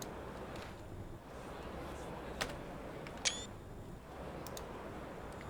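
A screenshot camera shutter click in Train Sim World 4, aboard a Class 380 unit on the Cathcart Circle Line, sounds as one short sharp click over a steady low train rumble.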